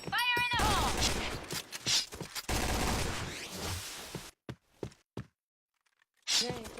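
Bursts of gunfire crackle in a shooting video game, dense rapid shots at first, then scattered single cracks with gaps of near silence, one more burst at the end, and a voice talking over parts of it.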